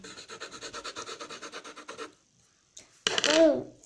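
A purple pencil shades a drawing with a quick, regular scratching rhythm of about a dozen close strokes over two seconds, followed by a pause and then a brief voice.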